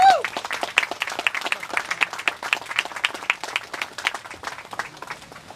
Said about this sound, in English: a big round of applause for Mike Fitzpatrick